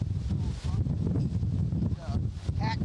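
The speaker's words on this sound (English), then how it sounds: "Now we're up to about 20 knots on the gust." Strong gusts of Hurricane Irma roar steadily across an outdoor microphone, a dense, continuous buffeting rumble that persists throughout while a person speaks over it.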